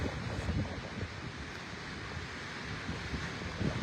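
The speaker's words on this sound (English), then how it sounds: "having salt mist and the roar of the ocean bathe over you" Steady roaring wash of ocean surf surging into Thunder Cave at Loch Ard Gorge, with wind buffeting, a continuous low rumble and hiss with slight surges, no voices.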